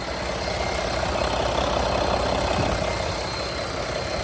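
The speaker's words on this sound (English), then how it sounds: "Nice clean running machine, no blow-by." A 2018 Mack CXU613 day cab semi tractor with an MP8 diesel engine idles close by, giving a steady, loud, unbroken rumble with a constant mechanical clatter.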